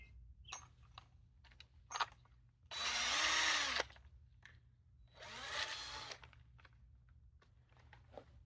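A power drill bores a hole while a Zet Ninja 2 kayak seat and bulkhead are adjusted: two close, loud bursts of whining motor that rise and fall in pitch, separated by quiet gaps with light handling clatter.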